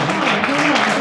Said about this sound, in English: We need an applause for that